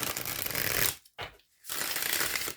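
Tarot cards being riffled and shuffled in quick papery bursts, with a brief pause between shuffles, close up and with no talking.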